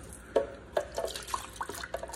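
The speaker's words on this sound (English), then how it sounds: "We're gonna add a little bit of water to our blender just to get whatever was left." Water poured into a blender jar to rinse out leftover salsa, a short run of splashing and dripping with several soft, uneven bursts.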